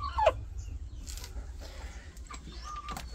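Rhode Island hens in a backyard chicken coop, a short loud cluck or squawk at the start followed by softer scattered clucks and rustling over a low background hum, with no talking.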